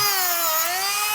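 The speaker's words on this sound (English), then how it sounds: "It's just a Milwaukee die grinder body, and we're gonna sharpen the tungsten here." A Milwaukee die grinder whines at high pitch while sharpening a tungsten welding electrode, a close, loud, steady tone that dips slightly in pitch mid-way and then recovers over about a second.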